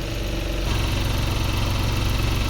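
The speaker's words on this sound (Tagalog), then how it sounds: "halatang halata naman na nag-normalize na ang idling nito" A Suzuki DA52 with the F6A engine idles steadily at around 900 RPM, a continuous low mechanical hum and vibration heard close up with no one talking.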